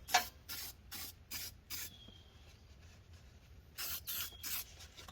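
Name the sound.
spray painting Hummer H2 part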